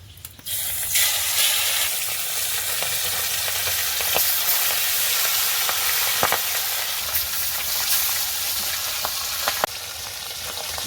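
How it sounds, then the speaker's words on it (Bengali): Pabda fish sizzling in hot mustard oil in a pan, a loud continuous spitting hiss up close with occasional sharp pops and crackles, no voices. "তেল গরম হয়ে গেছে, এবার আমি মাছগুলো একটা একটা করে দিয়ে দেব।"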